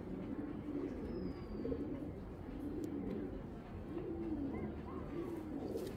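Pigeons coo in soft repeated rolling phrases over a constant low background rumble, with a faint chirp or two and brief faint voices.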